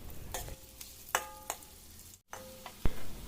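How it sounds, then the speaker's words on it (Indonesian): Tempeh frying in hot oil, a soft steady sizzle broken by sharp clicks and scraping stirs of a utensil, a few crackling pops standing out near the end. "Mbak Ica mau goreng tempenya dulu ya teman-teman, biar agak kuning-kuning gitu ya"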